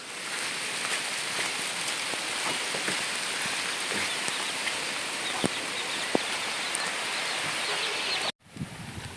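Heavy rain pours down in a dense, steady roar with occasional sharper drops, then cuts off abruptly near the end.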